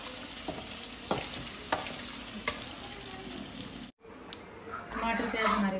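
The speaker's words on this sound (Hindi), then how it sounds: "पनीर को सॉफ्ट कर लेंगे, फ्राई कर लेंगे।" Paneer fries in a pan with a steady soft sizzle broken by a few sharp utensil taps, then a brief gap and a fuller, louder sizzle, heard close up.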